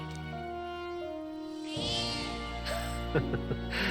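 Cat meowing in the video game Metaphor: ReFantazio, a few clear meows rising out of a music bed, close and distinct near the end.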